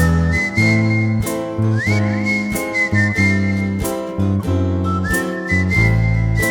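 A person whistles a bright melody, with clear sustained notes and quick slides between them, close and alone with no talk.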